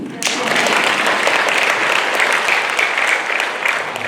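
A room of volunteers at a Catholic small-community training session bursts into sustained applause, dense clapping that starts abruptly and stays full and even until it tapers at the end.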